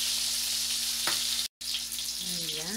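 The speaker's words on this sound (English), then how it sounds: "We will use this one when we fry." Fish frying in premium coconut oil gives a steady, close, loud sizzle throughout, with a brief cut of silence midway and faint clinks of cooking utensils.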